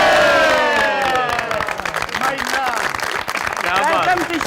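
A studio audience on a Pakistani comedy stage show cheers and claps loudly, a dense continuous crowd roar with shouts and whistles that fades out, with music and voices mixed in.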